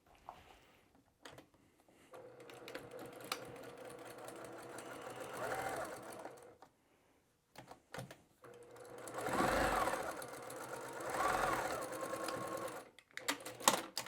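A sewing machine stitching a second row on a patchwork drawstring bag, running in several bursts of steady mechanical whirring separated by short pauses, close and moderately loud.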